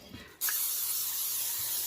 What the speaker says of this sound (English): Now I'm going to take my bundt pan and I'm just going to spray it